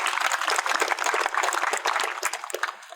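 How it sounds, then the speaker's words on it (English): An audience at an outdoor groundbreaking ceremony claps with a dense patter of hands that holds steady for a few seconds and then thins out toward the end. "Please give them all a round of applause."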